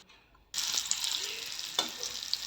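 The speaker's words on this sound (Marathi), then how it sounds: "बटाट्याच्या फोडींवर चवीप्रमाणे मीठ घातलेलं आहे आणि फोडी वर खाली करून मीठ सर्व फोडींना लावून घेते आहे" Potato pieces salted and stirred in a pan, after a quiet start the hot fat breaks into a loud, steady sizzle with occasional scraping of the spoon, close up and without talk.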